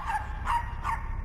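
Riled-up dog barking at unfamiliar dogs from outside its pack, three sharp barks evenly spaced against a low background rumble.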